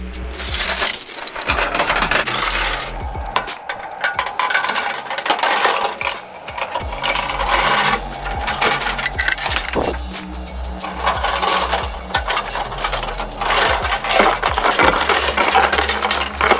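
Metal chains clinking and rattling steadily while a trailer carrying a Bobcat is chained down, with dense jangling bursts and scrapes continuing throughout, close and fairly loud.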